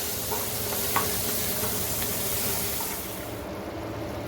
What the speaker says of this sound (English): And now we will mix it all together